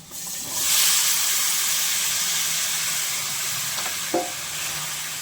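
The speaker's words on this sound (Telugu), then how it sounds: "టమాటా ఆలుగడ్డ వేసుకుందాం." Tomato and potato tipped into softened onions frying in a pan for a potato and drumstick curry give a steady, close sizzle, with one brief stirring scrape near the end and no talking.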